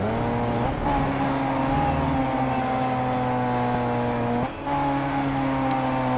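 A racing car roars along a street circuit in the video game GRID Autosport, its engine droning loudly with a steady buzzing pitch, briefly dropping with a gear change before climbing again.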